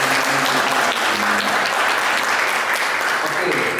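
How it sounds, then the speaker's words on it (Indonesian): An audience at a tenth-anniversary celebration claps together in dense, sustained applause lasting throughout, with voices faintly mixed in beneath the clapping. "Kita beri tepuk tangan semuanya."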